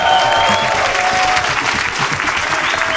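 Applause and cheering from an esports tournament crowd at the GGWC23 quarter finals, a dense, steady roar of clapping that fills the whole stretch at full volume.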